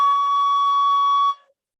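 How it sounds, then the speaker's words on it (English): Recorder sounding a low C with the pinky holes only half covered, giving a steady, loud, buzzy squeal with bright upper tones, held alone for about 1.3 seconds before cutting off. "because if you only cover up half the hole, it sounds like this."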